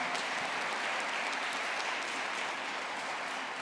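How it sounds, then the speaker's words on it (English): Commencement audience applause at an undergraduate graduation ceremony, a dense, continuous roar of many people clapping in a large space, steady and even throughout with no talking over it. "Let's give John a round of applause."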